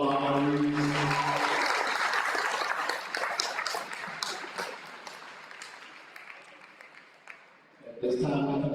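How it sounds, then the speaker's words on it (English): Audience applause for the honorees at an academic excellence awards event, strong at the start and gradually fading, with a voice breaking in near the end. "Can we please clap it one more time for all of our honorees?"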